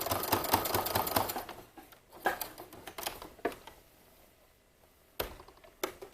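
A sewing machine stitches a waistband on a vintage jumper, running in a steady burst of rapid needle clatter that slows and stops as it pivots around a corner, followed by scattered clicks and a few short restarts.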